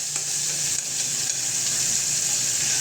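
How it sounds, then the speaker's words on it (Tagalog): Onions and tomatoes go into a hot pan with cooked hotdog and fry with a steady bright sizzle, close and continuous, with faint stirring scrapes. "Ilagay na natin ang sibuyas at kamatis"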